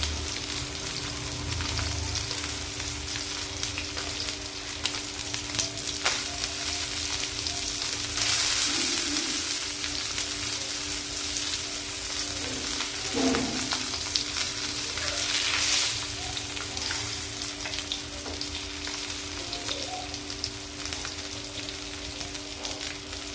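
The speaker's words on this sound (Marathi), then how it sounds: "दुसऱ्या साइडने पण आपण चांगले फ्राय करून घेऊ।" Surmai fish frying on its second side in a pan gives a loud, steady, crackling sizzle that runs continuously, with occasional stirring or turning noises.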